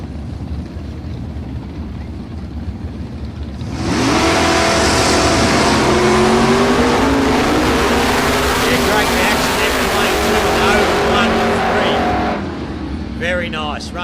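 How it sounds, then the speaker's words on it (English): Camaro drag car launching down the strip at a street challenge event, a loud roaring engine bursting in after a quieter idle and holding a hard wide blast for about eight seconds before dropping back, with an announcer talking throughout. "Keep your eye on the front end of the Camaro. You'll see it launch into the heavens."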